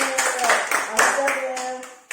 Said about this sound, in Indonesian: Tepuk tangan buat Abel.